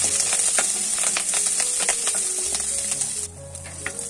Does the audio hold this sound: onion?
yes